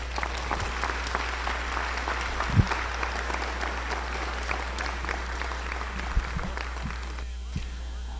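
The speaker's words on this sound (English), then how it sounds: "Let's give them all a big round of applause." Steady applause from a sizable crowd at a high school academic awards ceremony fills the space, dense clapping holding at an even level for several seconds before thinning near the end.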